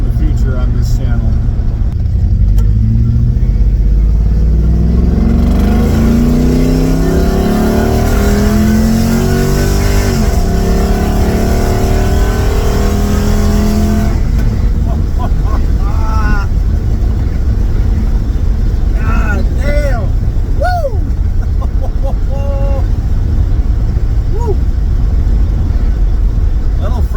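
LS-swapped 1981 Pontiac Trans Am with a Pypes Violator exhaust, deep rumbling V8 revs climbing and falling in several bursts, loud and close, then settling to a lumpy idle while people talk.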